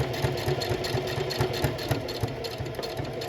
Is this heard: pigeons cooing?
no